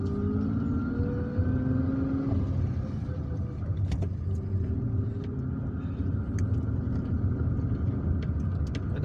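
Steady low engine rumble and road noise from inside a car driving through the streets of Algiers, continuous and close, with faint clicks and no talking.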